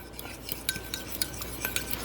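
Egg yolk and milk mixture being whisked in a bowl, with light repeated clinking and tapping of a utensil against the bowl, quiet and close, no talking.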